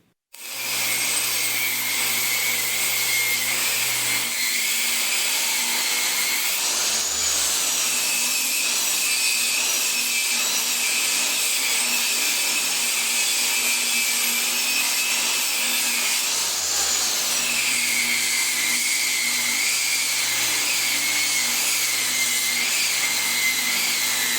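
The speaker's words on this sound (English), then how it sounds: "we're going to use the table saw and rip the round over edge off of these 2x3s" A table saw rips the rounded edge off wooden 2x3 boards in a long, loud, continuous whine with a high-pitched bite into the wood, easing briefly twice between passes, with no talking.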